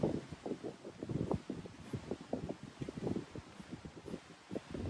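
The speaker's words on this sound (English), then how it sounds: "there's wind right now, so I have to be careful" Wind gusting outdoors beside an old weathered barn during priming, with uneven rustling bursts and buffeting against the microphone that rise and fall throughout.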